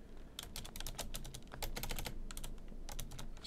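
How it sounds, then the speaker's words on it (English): Rapid, close clicks from a loud computer keyboard come in quick bursts of keystrokes with short pauses, heard alone in a quiet room. "you guys can hear my keyboard. It's kind of loud."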